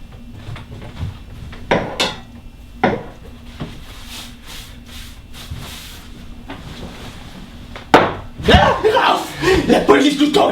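Cutlery and plates clink, scrape and rattle as they are handled on a film set, with irregular knocks and sharp clatters building to a busy jangle near the end, while voices murmur in the background.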